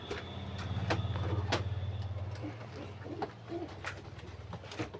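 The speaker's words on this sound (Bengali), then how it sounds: "এখন আমরা আরেকটা দেখতে পাচ্ছি এটা হচ্ছে কালদম আচ্ছা এটা আমরা চিনি" A Kaldom Giribaz pigeon coos nearby in a low, soft, continuous murmur that fades after a couple of seconds, followed by scattered light knocks and clicks.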